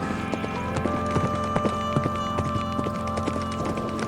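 Rapid, dense hoofbeats pound steadily throughout, like many cavalry horses galloping together in a charge, over a continuous droning background.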